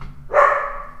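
A single dog bark, close and loud, one short bright yelp rising then trailing off over about a second, with no talk over it.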